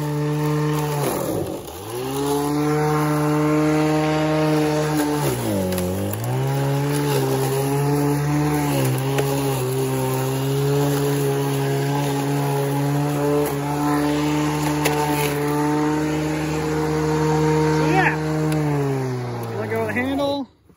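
A Sun Joe MJ401C battery-powered lawn mower drones steadily and loudly up close, cutting grass at its lowest height, its pitch dipping briefly twice as it bogs down, then cutting off at the end.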